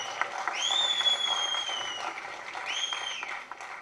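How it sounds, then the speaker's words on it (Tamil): Friends cheering and clapping for a young man in a theatre, a crowd applause wash with rising whoops and shouts that swell around the middle and again near the end, fairly steady and moderately loud throughout. "அவனுடைய நண்பர்கள் தனியாக அவனுக்கு வந்து ஹோலர் பண்ணி கைத்தட்டிக்கிட்டே இருக்காங்க"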